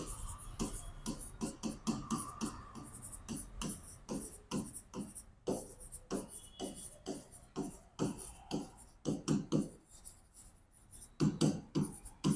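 Pen strokes scratch rhythmically on paper while an account format is drawn, a steady run of short, close, soft scribbling bursts.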